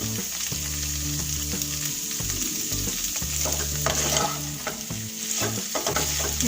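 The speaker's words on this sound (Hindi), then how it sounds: "और इसमें मैं ऐड कर रही हूँ चॉप्ड गार्लिक।" Chopped garlic fries with a steady sizzle in a pan while a utensil stirs it, scraping and clinking against the metal throughout. There is no talk.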